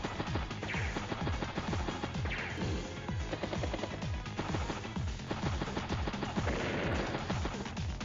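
Artillery tank fire in the turn-based war game Advance Wars: Days of Ruin, a dense run of rapid repeated blasts and impacts, loud and steady throughout with no talking.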